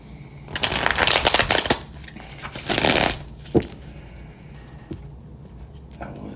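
Cards are riffled and shuffled in two quick bursts, followed by a few softer taps and bridge-like flutters, close up.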